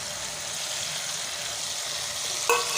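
Masala with crushed coriander sizzles steadily in a pan while being stirred, a constant close frying hiss with one brief utensil scrape near the end; no talking.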